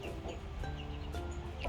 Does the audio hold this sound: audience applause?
no